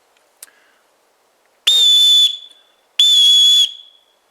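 A pealess whistle built into the twist handle of a Horizons Tec survival shovel gives two long, shrill, steady blasts, loud and close, each trailing into a short echo, after a brief faint click.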